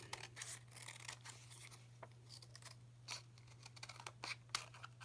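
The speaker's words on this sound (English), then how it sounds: "Let's trim it up." Scissors trim paper scraps close to the microphone in quick, quiet snips and rustles over a low steady hum, with no talking.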